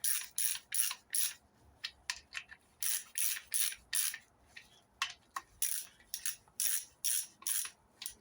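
A ratchet with a ½ inch deep six-sided socket clicks in repeated short bursts while nipping up bolts on the tube rear axle of a 1970 MGB GT, close and crisp with brief pauses between strokes, no talk.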